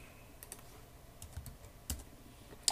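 Quiet computer keyboard typing while doing a cut and paste in a Unity3d setup: a few sparse, faint key clicks spread out over low room noise.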